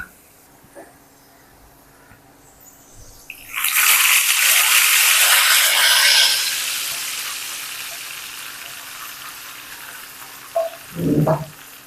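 A sudden loud sizzle as tempering spices hit hot oil for arhar (toor) dal, hissing strongly for a few seconds before slowly fading, followed by a couple of clinks.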